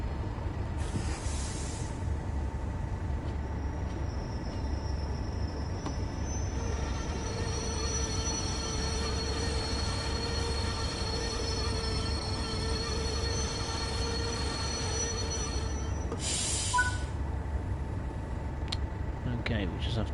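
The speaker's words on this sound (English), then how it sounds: "we will be taking charge of the Class 31, aka known as the Gargoyle diesel locomotive" Class 31 diesel locomotive in Train Sim World 5 on the Tees Valley Line, a steady low engine rumble with faint rail hiss and a thin whine, continuous throughout with two brief bursts of noise near the start and end.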